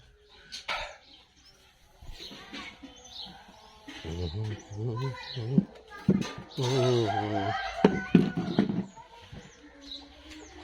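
Chickens and chicks in a village yard, with clucking and a rooster crowing, a dog barking in bursts, and people talking at intervals, all at moderate distance.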